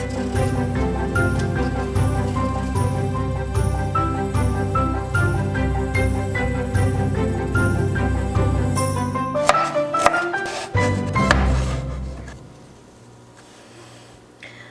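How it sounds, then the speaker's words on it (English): A knife cuts through hard sweet potato on a board in a home kitchen, a run of rhythmic close chopping knocks and clacks over a dense background, then a few heavier cuts before quieting. "Why are sweet potatoes so hard to cut?"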